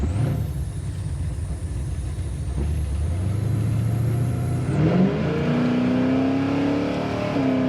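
A 1969 Chevy Camaro engine revving hard under acceleration, rising in pitch, then dropping as it shifts gear and climbing again, loud and close with a high whine above the roar, no talking.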